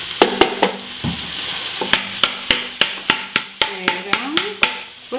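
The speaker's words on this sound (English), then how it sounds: "I'm going to stir all of the onions right now" Onions being stirred as they fry in a pan, with a spoon tapping and scraping the pan in a steady run of about fifteen sharp knocks over a constant sizzle, close and fairly loud.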